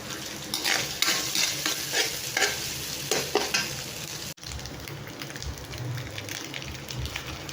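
Quail eggs fry in a pan for a sepo egg dish while a utensil stirs them, making several close scraping strokes over a steady crackling sizzle. After a brief break the sizzling carries on alone, with no voices.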